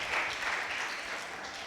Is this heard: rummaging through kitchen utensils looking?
no